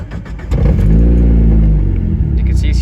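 Mazda Miata engine cranks and catches after half a second, then settles into a loud, close, steady low idle rumble that fills the rest of the clip.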